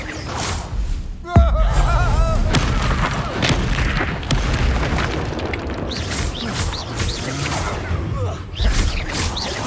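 A Bombarda blasting spell detonates in Hogwarts Legacy, a sharp heavy boom followed by dense crackling combat effects and further magical bursts, with a voice talking over the action.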